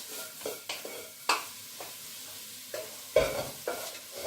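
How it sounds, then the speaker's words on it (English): Onions cook gently in a pot for a chicken and chickpea tagine, a soft steady sizzle broken by scattered clinks and scrapes of stirring, close and fairly quiet. "So you can see there's the onions cooking away in the pot."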